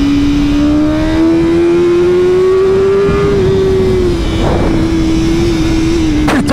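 A 2023 BMW M1000R motorcycle ridden very fast, its engine holding a loud, steady high-pitched drone that climbs slightly and wavers, with wind roar throughout and no talking.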